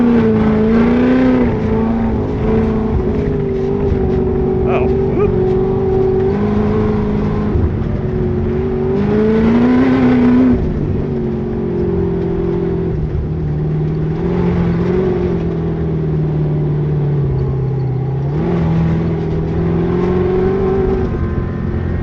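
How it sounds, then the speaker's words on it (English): A race car with a dogbox transmission cruises in second gear, its engine droning loudly and close with a steady tone. The pitch rises and falls gently as the throttle eases on and off. "Now we're just kind of cruising in second gear"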